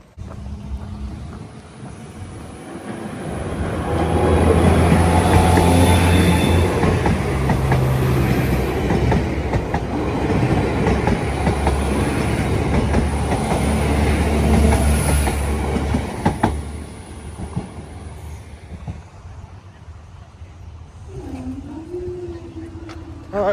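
A train rolls past a level crossing in Northern Ireland, a loud, sustained rumble of wheels on rail with some squealing and clatter, lasting most of the clip before fading away.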